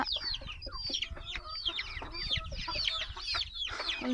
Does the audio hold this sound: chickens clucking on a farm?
yes